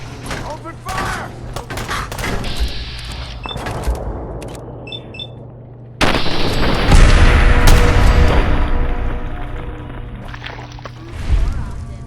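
Gunfire and explosions from a Fallout 4 battle come in a dense, chaotic barrage of sharp cracks and heavy booms. It grows louder and fuller halfway through and ends on a final loud burst.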